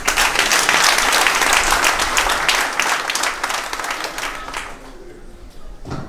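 An audience bursts into dense applause at a political list presentation, loud at first and then thinning and fading over several seconds, with a voice briefly audible as the clapping dies down.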